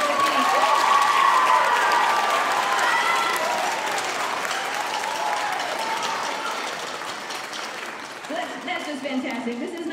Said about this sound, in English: can we give another round of applause to Mr. Bill?